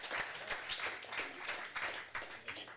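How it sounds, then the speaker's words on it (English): Applause rings out at a city council meeting for an Employee of the Month, steady dense clapping from the chamber filling the moment without a break. "Give him a round of applause."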